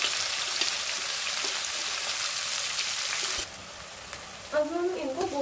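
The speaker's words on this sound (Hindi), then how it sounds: "अब लहसुन ब्राउन हो चुका है, अब इसमें हम चॉप्ड किए हुए प्याज डालेंगे।" Chopped onions dropped into a pan of browned garlic, a steady close sizzle that drops off partway through, followed by brief stirring and scraping.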